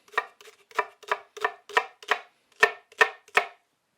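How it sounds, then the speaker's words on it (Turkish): A knife chops onions and red peppers on a cutting board in quick, steady strokes, about nine sharp thuds with a brief pause partway through. Close and clear, with no talking. "Önce malzemelerimizi şöyle bir kabaca doğrayalım."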